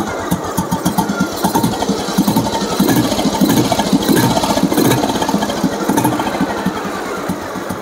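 A 1998 Royal Enfield Bullet motorcycle engine idles loud and close with a steady, thumping beat, revving slightly in the middle before settling back.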